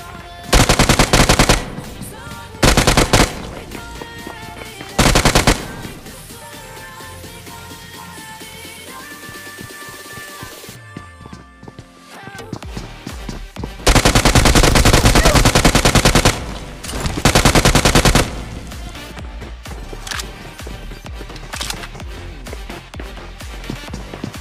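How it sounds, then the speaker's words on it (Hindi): Automatic gunfire in the mobile battle royale game PUBG Mobile (Battlegrounds Mobile India), loud bursts of rapid fire repeating across the clip with a longer sustained volley near the end, over a constant game music and ambience bed, with no talking. "अब मेरी गन फायरिंग सुन के एक स्क्वाड मुझ पे रश कर देती है।"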